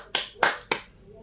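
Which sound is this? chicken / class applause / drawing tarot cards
class applause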